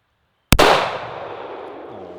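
A single .45 ACP pistol shot cracks out sharply after a moment of silence, then a long echoing tail decays across an open outdoor range.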